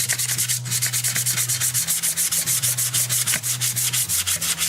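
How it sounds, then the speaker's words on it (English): Wet sanding by hand with 220 grit sandpaper, quick rhythmic back-and-forth rubbing strokes, close and loud, a regular gritty swish repeating several times a second with no talk. "So anyways, we just start sanding."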